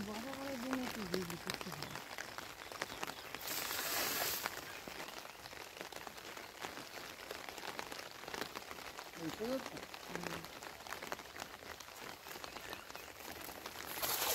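Steady rain falls outdoors in the Sundarbans, where two goats stand getting wet. The rain makes a constant patter on surfaces, and voices speak briefly near the start and again in the middle.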